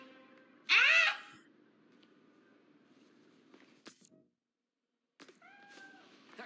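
A cat in the Spider-Man: Miles Morales video game lets out a single loud, clear meow early on, followed by quiet game ambience with a few faint clicks and soft tonal chirps.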